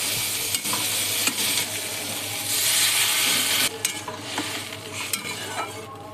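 Tomato fries in a pan with salt and turmeric, giving a loud close sizzle with scraping stirring strokes and clinks throughout.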